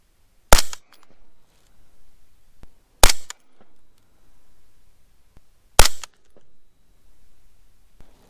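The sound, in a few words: suppressed 7.62 rifle gunshots with OSS Ti suppressor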